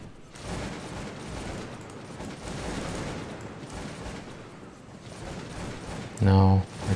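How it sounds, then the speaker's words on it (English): Musket fire from grenadier squads in Cossacks 2 battle, a dense crackle of overlapping volleys rolling continuously, with a louder sharp burst near the end, while a voice talks over it. "Now I try to shoot and throw grenades with my grenadiers."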